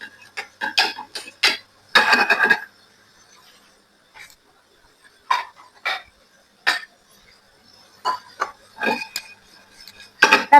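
Fifteen to twenty cardamom pods dry-roasting over gentle heat in a pan rattle and click in short, irregular bursts as they are stirred, with quiet pauses between.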